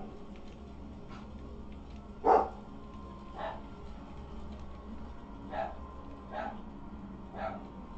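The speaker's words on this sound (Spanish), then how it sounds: "si escuchan a los perros" Household dogs bark in the distance with a handful of short, separate barks spread over several seconds, the first a bit louder, over a steady low background hum.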